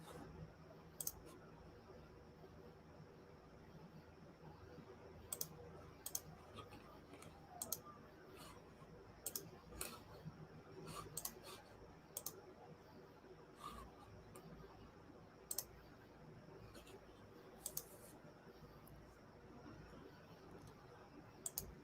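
Quiet computer keyboard typing, with sparse, irregular soft key clicks over a faint room hum, heard at a short distance with no talk.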